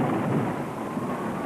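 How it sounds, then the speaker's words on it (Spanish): A thunderstorm at sea: a dense, steady roar of rumbling thunder and heavy rain that is close and fairly loud, with no voices. "pero era cierto que había terribles tormentas"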